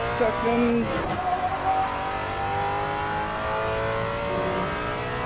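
A Ford Mustang Shelby GT350R at Tsukuba circuit, loud engine dropping through gears under heavy braking, revs rising and falling with a brief tyre squeal, while a driver talks over it.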